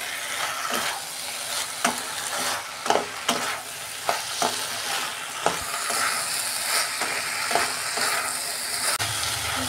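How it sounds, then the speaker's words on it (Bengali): Okra fried with spices in a pan sizzles steadily, while a spatula scrapes and taps the pan in irregular strokes close by, with no voices heard. "ভালো করে আমি মশলার সঙ্গে ঢ্যাঁড়সটাকে একদম মিশিয়ে নেব।"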